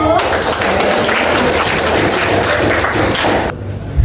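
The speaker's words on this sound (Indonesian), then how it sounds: "Tepuk tangan untuk kelompoknya Dewi Harno." A class claps for a group about to present, a few seconds of busy, uneven clapping mixed with voices before it cuts off abruptly.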